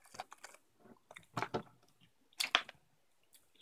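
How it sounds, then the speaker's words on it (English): Someone crunches a giant waterbug: close, dry bites and crackling chews in irregular clusters, fairly quiet and with no talking. "It's very crunchy. Hard to chew."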